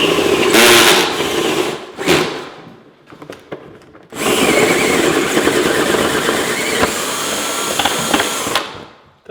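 Power tool cutting holes for spotlights: a couple of short loud buzzing bursts with clatter in between, then a sustained harsh grinding cut for several seconds that fades out at the end, close-up.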